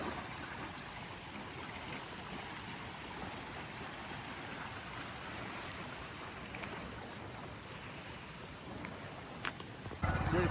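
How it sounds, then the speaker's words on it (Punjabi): Fast-flowing floodwater of the Ghaggar river at Chandpura village rushes past in a steady, dense roar that holds an even level throughout, with a slightly louder burst right at the end. "ਕਿੰਨਾ ਤੇਜ਼ ਜਾ ਰਿਹਾ ਪਾਣੀ"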